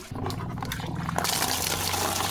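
Water pours into a bucket with a continuous splashing gush that grows fuller and brighter about halfway through. No voices are heard.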